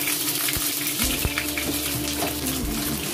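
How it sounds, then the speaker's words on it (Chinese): Food fries in a pan in a small Hong Kong home kitchen, with a constant sizzling hiss under scattered clinks and scrapes of a turner flipping the pieces, and no voices. "把它翻个面儿，继续煎"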